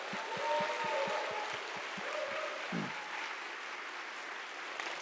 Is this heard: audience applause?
yes